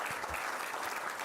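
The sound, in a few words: audience applause at arbitration conference session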